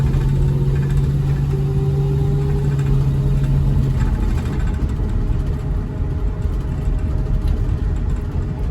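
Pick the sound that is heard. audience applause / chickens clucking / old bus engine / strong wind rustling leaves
old bus engine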